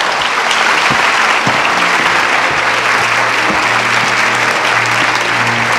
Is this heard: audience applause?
yes